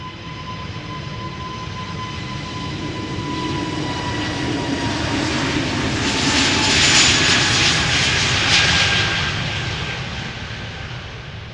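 An SAS Airbus A320neo on flight 556 to Stockholm departs Amsterdam Schiphol Airport, a loud continuous jet roar with a whining engine tone that swells to a peak midway and then eases slightly.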